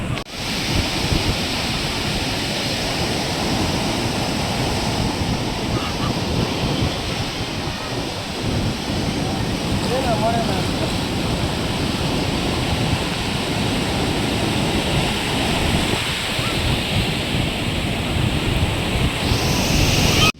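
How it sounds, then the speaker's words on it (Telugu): Strong ocean waves surge and break continuously on Gokarna beach in Karnataka, a loud, steady roar of surf mixed with wind buffeting the microphone throughout. "బీచ్ అలలు అయితే మరి ఘోరం వస్తున్నాయి మామ"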